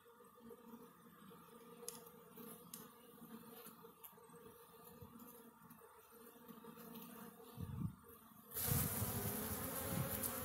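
Dense, steady buzzing of many honeybees at an open hive fills the clip, close and continuous, with a louder rustling burst near the end as bees are shaken off.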